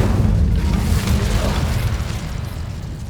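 The Incendio fire spell goes off in Hogwarts Legacy as a loud, sustained low rumbling burst of flame that slowly fades over a few seconds.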